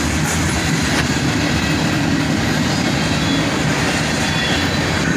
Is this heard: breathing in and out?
no